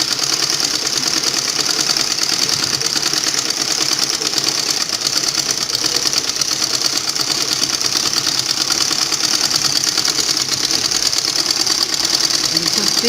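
Sewing machine stitching around the neckline of a blouse, a continuous steady mechanical whir throughout, close and fairly loud, with someone speaking over it.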